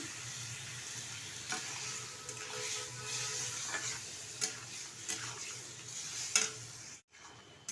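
Ripe mango pieces with salt cook down into chutney in a pan as they are stirred, giving a soft continuous sizzle with scattered scraping clicks before it cuts to near silence at the end.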